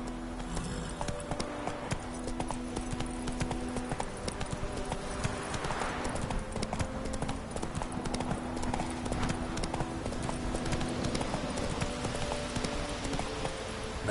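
Roach, a horse in The Witcher, clip-clops at a steady walking pace with regular hoofbeats close by, over low game ambience, with a brief whinny-like sound partway through.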